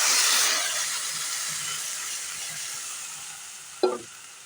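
Chopped banana flower frying in a pan, a broad sizzle that is loudest at first and then eases to a steady hiss, with one sharp utensil clank near the end.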